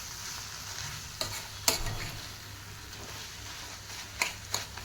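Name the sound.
roasting spices with coriander powder for gravy, stirring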